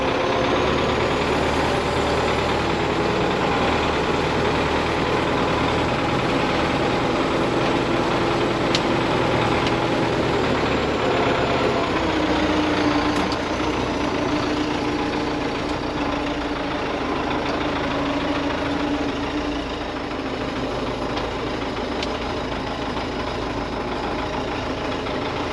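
A tractor engine runs steadily out on a farm field, a loud continuous diesel drone with a low rumble that holds nearly constant, shifting slightly in pitch partway through.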